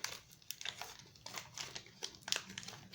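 Crinkling and tearing of a Chaos Galaxy trading card pack wrapper being opened by hand, a quiet series of irregular crackles and short rips close by.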